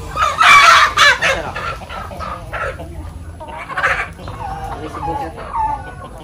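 Chickens at a poultry farm in General Santos City cluck close by with a rooster crowing among them, loud bursts of calls that carry on under faint background talk.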